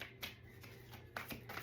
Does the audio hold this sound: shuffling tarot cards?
yes